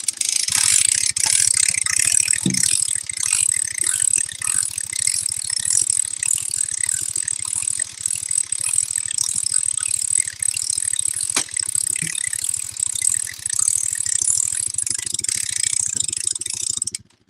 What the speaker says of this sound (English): Gonna crank up this hay bale.